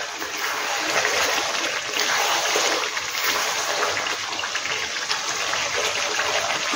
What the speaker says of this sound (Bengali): অল্প জল দেবো সেদ্ধ হওয়ার জন্য।